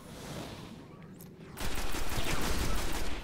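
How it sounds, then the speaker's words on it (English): Gunfire in a video game: after a quieter stretch, a sudden loud, dense burst of rapid shots continues to the end. "Oh, he tried to shoot me."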